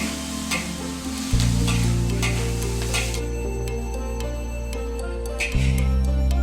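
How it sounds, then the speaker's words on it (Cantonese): Prawns tossed in a wok with a soy sauce and oyster sauce mixture, sizzling loudly and continuously up close, with a sharper burst of frying as more liquid hits the hot pan and metal stirring clatter. "加入醬汁炒均勻就可以出鍋啦"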